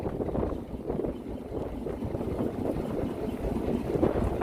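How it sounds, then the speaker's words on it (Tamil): Rain and strong wind at sea aboard a fishing boat, a steady low rumbling roar of gusts and water with slight swells in loudness, continuous and alone. "மழை மட்டும் கிடையாது, மழையும் காற்று."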